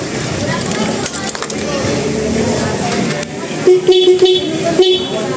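An aftermarket car horn from Shopee blares in a few short toots near the end, loud and close, after a stretch of talking.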